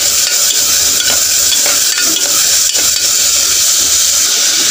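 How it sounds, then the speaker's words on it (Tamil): Onions sizzle and hiss in a pan, a continuous loud frying noise with occasional stirring scrapes and no talking. "நல்லா ஃப்ரை ஆகட்டும்"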